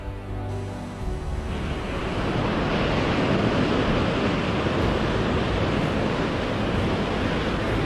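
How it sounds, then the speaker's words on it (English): Pacific Ocean waves break on a California beach, a broad roaring wash of surf that swells and holds steady, fairly close and loud, with wind noise and no talk. "This is the Pacific Ocean."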